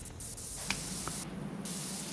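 A pressure washer in PowerWash Simulator 2 sprays in a steady, loud hiss of water, with a short higher burst toward the end and a couple of faint clicks, alone without talk.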